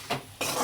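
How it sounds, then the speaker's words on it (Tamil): Spice powder stirred into hot oil and ghee in a pan for bisibele bath, with two close scraping, sizzling strokes of the spoon and a short pause between them. "போட்டுன்னு நல்லா கிளறி விடுங்க"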